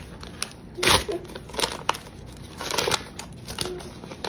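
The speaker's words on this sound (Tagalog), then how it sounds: "punitin mo" Paper gift wrapping torn open at a family Father's Day gathering: loud close crinkling and ripping in several bursts, with sharp rustles between them, and no talk over it.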